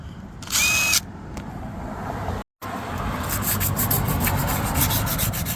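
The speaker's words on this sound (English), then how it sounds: "I just took a little bit of the rust off by hand" Hand rubbing of rust off a 2014 Cadillac ATS brake rotor, a dry steady scraping hiss with a brief louder rasp early on and a short break midway.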